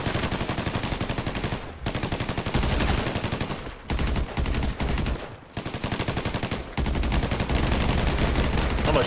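Loud, rapid automatic gunfire in a GTA 5 FiveM roleplay shootout, long dense bursts broken by a few short pauses, close and dominating throughout.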